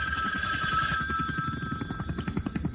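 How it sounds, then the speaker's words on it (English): An old-fashioned telephone bell rings insistently in a radio drama, a steady, loud trilling repeated without pause and heard alone. "Suddenly, the telephone started ringing."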